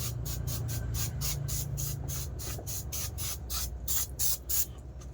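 A spray can fires a rapid series of short hissing bursts, about fifteen in quick rhythm, close and fairly soft over a faint low hum.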